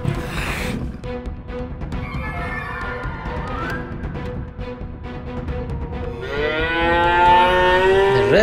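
Several cows moo loudly while under leopard attack, long drawn-out calls overlapping one another, the last ones rising and strained, over an outdoor background.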